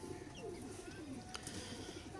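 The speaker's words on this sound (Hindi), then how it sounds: "टैडी पेयर है, जेन्युइन ओरिजिनल हालत में टैडी कबूतर" A pair of Teddy pigeons coos softly in a low, faint murmur over a steady background hum, with a brief clatter partway through.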